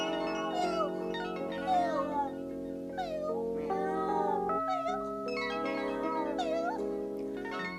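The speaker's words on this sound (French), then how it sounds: "Mathias, entendant miauler, s'approcha et les découvrit." Two abandoned kittens meow repeatedly in high, wavering cries, close and fairly loud, over a steady background hum.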